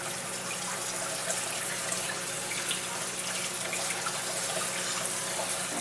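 Kitchen tap running steadily into a sink to cool partly blanched potatoes, a constant close splashing hiss with no talk.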